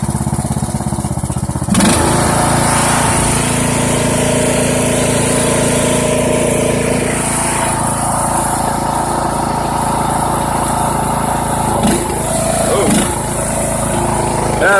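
Poulan Pro lawn tractor engine pulling loaded Grilla carts outdoors, a loud steady close engine drone throughout with a few load changes and a faint clunk near the end.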